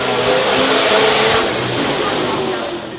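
A race car of about 330 brake horsepower drives up the hill at a speed festival, its engine roaring loud and close with a steady, slightly falling pitch as it passes.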